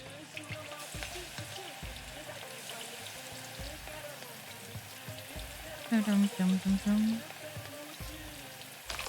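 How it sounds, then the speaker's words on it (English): Food frying in a pan in the cooking game Venba, a steady bubbling sizzle running throughout, with a brief louder tonal burst partway through. "We're frying it for sure."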